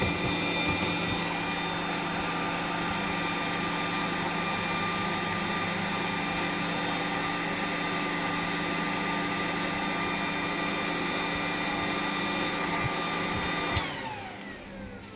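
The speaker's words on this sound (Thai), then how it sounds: "อ๋อดังตัวพัดลม" A cooling fan runs inside a Suoer 1200VA grid-tie inverter, giving a steady, fairly loud whirring hum with a clicking fault sound. It carries on unbroken, with a brief knock near the end before it drops away.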